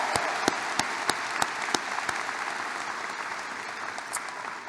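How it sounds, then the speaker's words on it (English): Graduation ceremony audience applauding, a dense steady wash of clapping from a large crowd in a hall, with a few sharper individual claps standing out early on, fading slightly toward the end. "let's give them all a round of applause"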